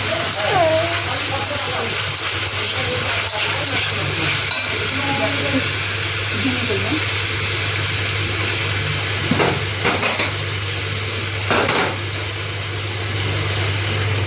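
Mixed chowmein with rice is stir-fried in a pan, giving a continuous loud sizzle and hiss with stirring scrapes and a low steady hum underneath, while someone talks over it.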